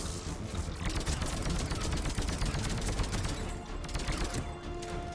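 Rapid gunfire from a weapon in Mass Effect 3, a dense, continuous burst of loud shots rattling steadily across the whole stretch with no pauses.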